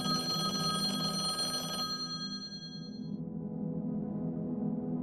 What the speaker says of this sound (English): the phone at the shop just rang and rang and rang